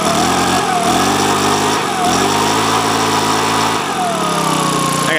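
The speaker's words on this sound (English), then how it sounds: "it idles okay and stuff like that, but it simply will not pick up right" A Makita BHX2500 leaf blower's small engine runs loud and close, droning steadily with wavering, uneven pitch as it fails to pick up properly, with no one talking.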